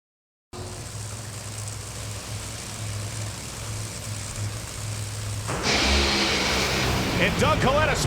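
Top fuel dragster run at an NHRA national event, Brittany Force's car: a steady low engine drone fills the first seconds, then a sudden loud, harsh broadband roar bursts in and holds to the end, with crowd or announcer sound underneath.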